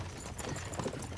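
Horses' hooves clip-clop at a steady walking pace in the medieval world of Kingdom Come Deliverance 2, a continuous rhythmic clatter at moderate loudness with low background rumble.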